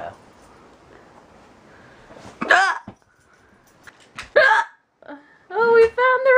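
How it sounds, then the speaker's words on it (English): Several sharp, sudden hiccups from a person, short isolated bursts spaced a second or two apart, with quiet breathy sound between them and a brief voiced sound at the end. "How long has it been since I last had crazy hiccups on film?"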